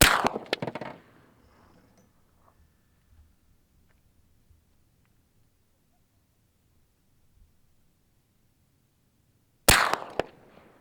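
Two sharp cracks of a suppressed .458 SOCOM rifle, one at the start with a short echoing tail and another near the end, separated by a long stretch of near silence.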